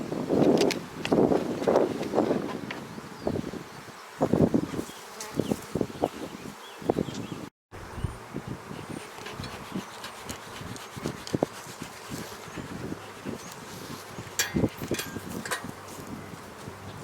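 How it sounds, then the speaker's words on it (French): Bees buzzing outdoors near a hive roof during a spring inspection, a steady insect drone with close passing buzzes over light wind noise, with one very brief dropout. "Là, il y a des abeilles, on va les laisser."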